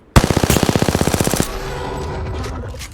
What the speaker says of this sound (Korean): 저쪽에 나쁜 놈들이다. 사격 중이다.